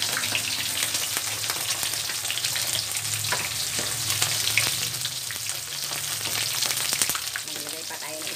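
Food sizzles in a hot frying pan with a steady, dense crackle, close and constant throughout, with occasional brief pops and stirring sounds.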